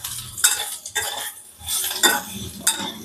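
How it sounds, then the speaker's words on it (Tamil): Raw banana slices being stirred in a frying pan with chilli powder and salt, scraping utensil strokes and clinks over a soft sizzle, close and repeated. "நல்லா பெரட்டி விட்டு"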